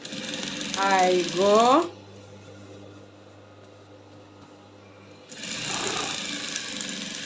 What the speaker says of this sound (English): I'm going to top stitch right on top of it